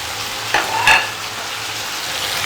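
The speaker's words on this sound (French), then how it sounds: "nous rajoutons les carottes et les haricots verts" Carrots and green beans go into a hot frying pan, bringing a brief louder burst of sizzle over a constant frying hiss with a low steady hum beneath.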